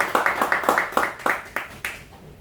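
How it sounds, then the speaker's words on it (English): Scattered claps from an indoor audience at a natural-health talk, a quick run of sharp hand strikes that thins out and stops within a couple of seconds. "round of applause"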